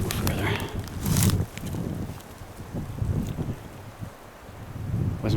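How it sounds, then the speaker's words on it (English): Wind gusts roaring across the microphone outdoors in a forest, a steady low rumble that swells and fades in waves, with faint rustling and a few footsteps underneath. "If it wasn't for that wind, I'd be really hot."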